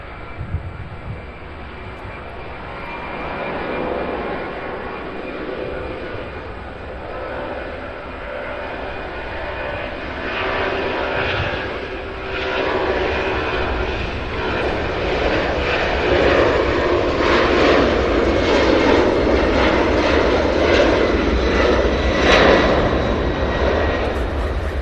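An airliner takes off at CVG airport in Cincinnati, its jet engine roar building steadily from a distant rumble to a loud, broad rush that lasts the whole stretch, with no talking over it.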